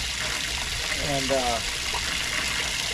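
Fresh household water running from a spout on a custom-built fish cleaning table, a steady gushing flow beneath a voice.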